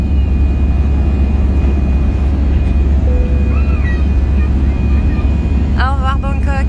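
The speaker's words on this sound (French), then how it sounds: "Hop, le nez décolle. Et ça y est, l'avion a quitté le sol." A passenger airplane takes off from a runway in Bangkok with a loud, steady engine roar throughout, and voices are heard briefly near the end.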